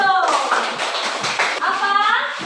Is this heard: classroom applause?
yes